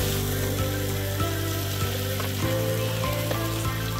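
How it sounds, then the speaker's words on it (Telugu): Sambar simmering in a pot with a constant close bubbling hiss, punctuated by a regular series of scraping strokes as a ladle stirs it. "ఇలా ఉడుకుతుంటే ఇట్లా కలుపుకుండాలి. మాడనే మాడవు."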